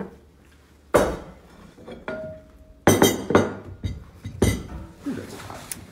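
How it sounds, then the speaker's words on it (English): Halushki with parsley gets stirred in a pot, giving a series of sharp clinks and knocks of a utensil against the pot, irregular and close, with quiet stretches between. "Parsley. I'm gonna stir this all together."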